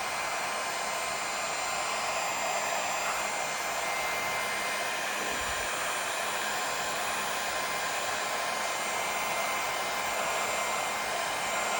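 Steady, loud blowing roar of a heat gun at a low setting warming pistol grip tape, constant and close throughout with no voices.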